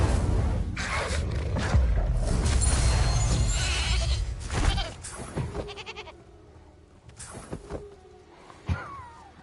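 A sheep bleats in Hogwarts Legacy amid magical combat, its cries mixed with bursts and booms before the scene quiets, leaving scattered effects and a final sharp hit.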